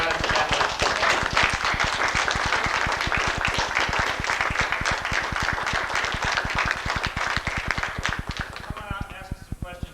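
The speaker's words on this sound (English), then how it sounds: "I want you to give this man a giant round of applause." An audience at a 1990 space development conference session on the Lunar Prospector gives a long, loud round of applause, a dense, even patter of many hands clapping that tapers off near the end, with voices briefly audible as it fades.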